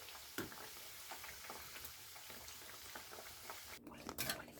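Sata sweets frying in hot oil make a soft, continuous crackling sizzle with scattered pops, a short clatter rising near the end.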